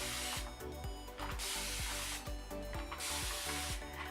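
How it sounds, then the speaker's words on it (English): Rapid bursts of a spray bottle misting water onto hair, several quick hissing pumps in rhythmic clusters with short gaps, close and fairly loud. "I'm going to spray my hair with water in the front"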